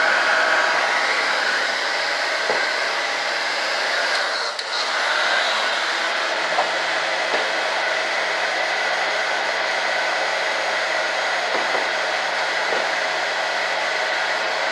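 A hair dryer blows steadily to warm fresh fiberglass resin on a boat, a loud, constant close-up whoosh running without a break, with only faint small knocks beneath it.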